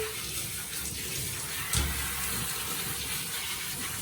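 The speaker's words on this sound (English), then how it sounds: "I'll give him a good rinse, and he'll need one more bath" Water runs steadily from a tap or sprayer while a dog is rinsed during grooming, a continuous close splashing rush with a brief thump partway through.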